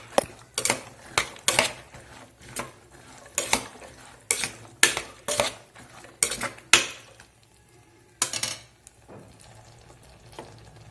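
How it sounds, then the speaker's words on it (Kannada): Chopped cluster beans (gorikayi) stirred in a metal pot, a steady run of sharp spoon scrapes and clinks in an uneven rhythm, close and clear, slowing to a few scattered strokes near the end, no talking. "ಇವಾಗ ಇದೆಲ್ಲ ಮಿಕ್ಸ್ ಮಾಡ್ಕೊತೀನಿ."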